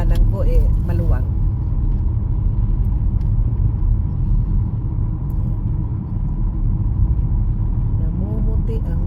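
A car rolls through slow winter traffic in Canada, a steady low engine and road rumble filling the cabin, with a voice talking briefly near the start and again at the end.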